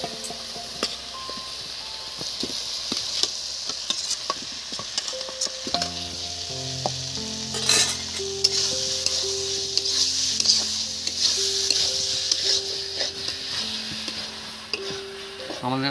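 Fried potatoes sizzle and hiss steadily as they are stirred into spice paste over a clay stove, with a dense, continuous frying noise and occasional scraping from the stirring, and no talk.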